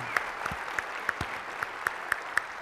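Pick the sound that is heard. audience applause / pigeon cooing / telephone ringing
audience applause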